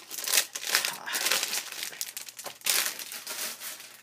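Plastic wrapping on a scrapbook paper pack crinkles and tears as it is opened, a steady, close run of crackling bursts that swells and eases over several seconds, with no talking.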